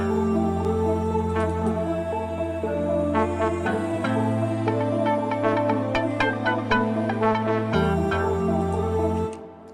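A muted guitar sample played in Kontakt within FL Studio rings out in plucked, rhythmic notes over a bassy afro house loop, clear and steady, with no voices.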